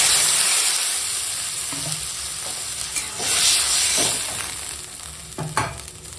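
Steady sizzling hiss as water is poured into cumin paste frying in a pan for a spinach and fish curry, with a few clinks and stirring bumps, no talk.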